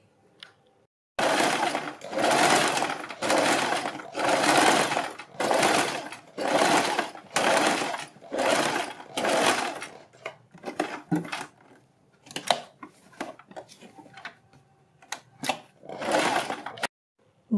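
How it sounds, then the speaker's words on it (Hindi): A sewing machine stitches along a neckline beside buckram in a series of steady runs of a second or so each, close and loud, then gives way to shorter clicks and handling noises before one last run. "हम बुकरम के बिल्कुल बराबर में पूरे नेक पर सिलाई लगा देंगे।"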